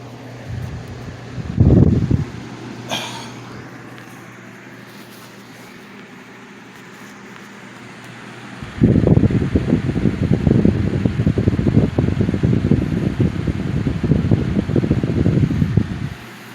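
Lasko Wind Machine box fan from the 2010s, a broad whooshing rush of air near the microphone that runs briefly, falls to a low hum, then swells back to a loud steady roar; no talk.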